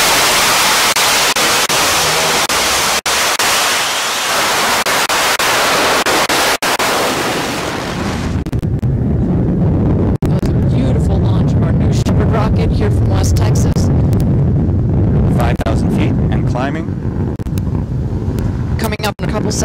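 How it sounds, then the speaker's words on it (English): A Blue Origin rocket lifts off on its liquid hydrogen and oxygen engine. Steady broadband hiss gives way to a deep, continuous roar that rumbles loudly and unbroken to the end, with a voice faintly present. "Command engine start"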